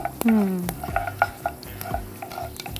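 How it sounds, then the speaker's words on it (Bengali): Bay leaf and five-spice (panch phoron) are stirred in hot oil in a pan: a sizzle with scraping spoon strokes and light metallic clinks, close-up and fairly lively. "ওকে, গন্ধটা বের হওয়া পর্যন্ত একটু নেড়ে নিব।"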